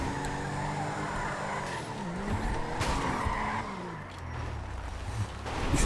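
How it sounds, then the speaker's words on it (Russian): Car skidding in the video game Smotra Rage, tires squealing over a droning, shifting engine note that rises and falls as the car slides, loud and continuous, with a couple of brief harder bursts. "Что-то машина слишком заносит"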